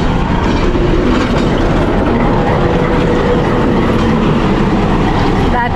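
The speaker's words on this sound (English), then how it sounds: "Oh, that's why they call it the reggae train." Onboard a train ride from Spanish Town in Jamaica, a loud steady rolling roar of wheels on rails fills the carriage, with faint clickety-clack and no clear talk.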